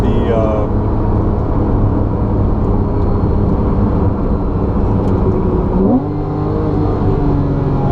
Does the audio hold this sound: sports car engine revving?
yes